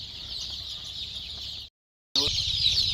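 Village chickens cluck softly in a pen during eye-drop vaccination, a close low murmur of hens under a constant high hiss, briefly cut to silence before resuming.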